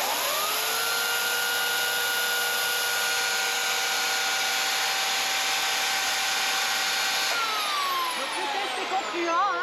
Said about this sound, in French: Et je continue mon test avec cette tronçonneuse électrique.